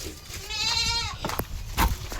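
A single clear goat bleat, wavering and nasal, close by, from a small crossbreed goat, followed by a few soft thumps and rustles.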